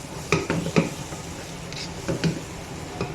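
A metal spoon stirs reducing milk in a pot while cooking sweet vermicelli, giving a few distinct scraping clinks against the pan over a soft background hiss.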